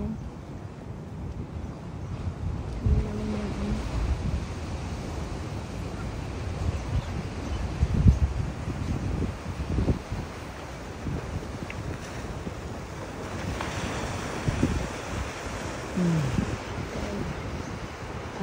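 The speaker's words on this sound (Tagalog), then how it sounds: "Alon ng dagat." Ocean waves on the Honolulu, Hawaii shore wash in a steady, broad rush, heavily buffeted by wind noise on the microphone, with no voices.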